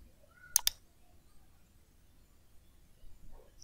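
Two quick, sharp computer mouse clicks sound close together near the start, followed by near silence and a faint soft rustle.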